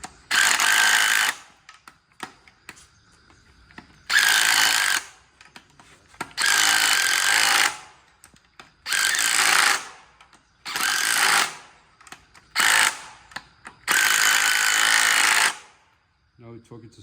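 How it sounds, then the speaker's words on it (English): A powered impact wrench drives cylinder head bolts back into a 5.3 engine, firing in about eight loud, rattling bursts of one to two seconds each with short pauses and light clanks between. "And we're now gonna put the bolts back in"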